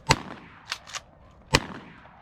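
Shotgun blasts ring out while hunting swans over decoys from kayaks in Utah, with several sharp, loud reports: one early, a quick pair, then another, each fading with a short echo over open water.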